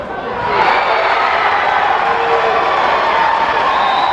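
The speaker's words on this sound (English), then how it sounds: "The crowd is going crazy right now." A college volleyball crowd erupts in sustained cheering after a point, swelling quickly into a loud, steady roar of voices that holds at full strength.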